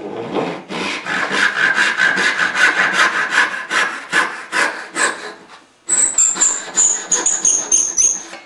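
A hand saw cuts along a marked line in curly maple for a spice box, making loud, rhythmic back-and-forth rasping strokes up close. After a short pause, faster, higher-pitched strokes follow.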